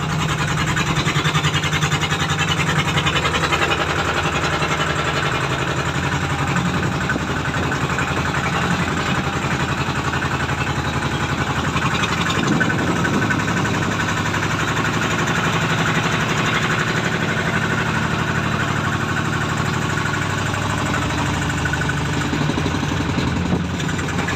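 A Thai rot i-taen farm vehicle engine chugs continuously at a steady idle, loud and close, with a knocking diesel rhythm throughout.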